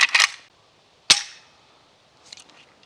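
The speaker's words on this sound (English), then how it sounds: "what do you say we dry fire this thing?" Sharp metallic clicks from handling and dry firing a Chinese-style AK-type rifle trigger, close and loud: a quick double snap, one crisp strike, then a few fainter rattling clicks.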